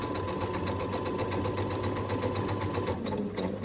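A sewing machine runs steadily, stitching fabric for a pin cushion, with a fast, even mechanical chatter that stays loud and close throughout before easing slightly near the end.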